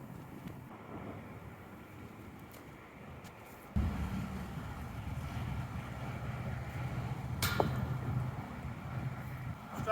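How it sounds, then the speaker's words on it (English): Gusty wind buffets the microphone on a wooded disc golf course, a steady low rumble that jumps louder partway through and stays strong, with faint voices underneath. "it's pretty windy"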